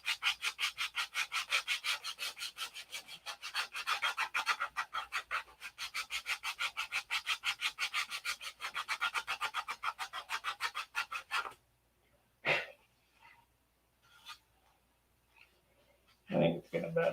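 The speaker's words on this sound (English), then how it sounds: "you can always sand the Z-epoxy before you paint it" Steady back-and-forth sanding of Z-epoxy on a P-47 model airplane, a long run of even, rhythmic rasping strokes that stops, followed by a few scattered handling knocks.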